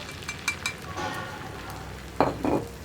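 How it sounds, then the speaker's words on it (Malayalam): Veg omelette mix poured into hot coconut oil in a pan, a short close burst of sizzling with a couple of light utensil clinks, no talking. "നമുക്ക് പാനിലേക്ക് നമ്മുടെ ഓംലെറ്റിൻ്റെ മിക്സ് ഒഴിച്ചു കൊടുക്കാം."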